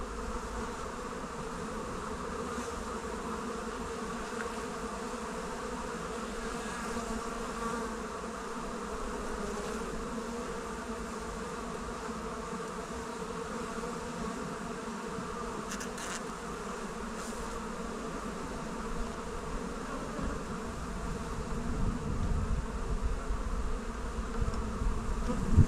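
Honeybees buzz steadily around an opened hive during a Taranov swarm-prevention split, a dense, continuous hum close by with no voices.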